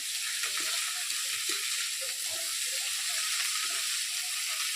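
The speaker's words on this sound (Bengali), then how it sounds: "তিন মিনিট আমি পরে নাড়াচাড়া করে নিলাম তেলে" Cauliflower frying in oil for a meatless korma, a steady bright sizzle with light stirring scrapes running throughout, close and continuous with no talking.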